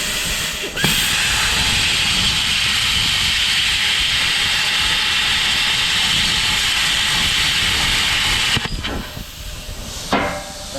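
A Cutmaster 82 plasma cutter slices through a mower blade with a loud, continuous rushing hiss that holds steady for about eight seconds, then breaks off into sputters and a final short burst.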